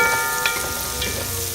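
Garlic, onion and tomato frying in a pot, a loud close sizzle with a few faint clinks and stirring scrapes over the short stretch.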